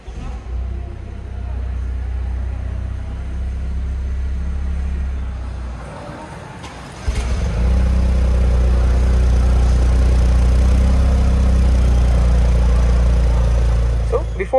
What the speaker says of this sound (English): to start the engine, just put your left foot on the clutch, your right foot on the brakes,